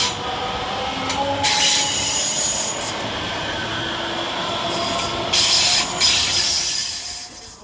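A Scotrail class 385 electric train pulls into Polmont station with a steady rolling rumble. High wheel squeals cut in and out, and a few brighter bursts of hiss come from nearby.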